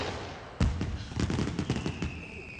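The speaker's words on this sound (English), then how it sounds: "And be careful of the box of fireworks," Fireworks going off in a Looney Tunes film scene: one loud bang, then a rapid, irregular run of crackling pops and bursts lasting about two seconds, with a thin whistling tone near the end.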